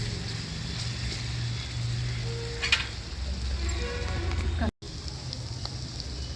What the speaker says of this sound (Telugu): అల్లం అనేది పచ్చివాసన పోయేంత వరకు ఆయిల్లోనే ఇలా మగ్గనివ్వాలి